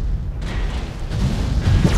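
A PPC shot strikes a mech in MechWarrior Online, a dull booming impact with rough, rumbling low-end noise that swells and lingers for a couple of seconds, with no talking.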